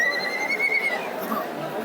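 A Kathiawari horse at the Dharwad agricultural fair gives a long, high, steady whinny that carries over a busy outdoor crowd murmur.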